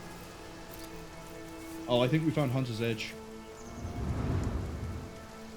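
Steady rainfall in the Divinity Original Sin video game, with a low rumble of thunder rolling in near the end, running under a short stretch of talk.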